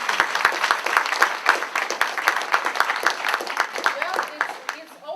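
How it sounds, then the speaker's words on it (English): Applause from the audience at a North Minneapolis legislative candidate forum: sustained clapping through most of the stretch with sharp individual claps standing out, fading toward the end, with some voices mixed in. "give a round of applause to Rebecca Younk."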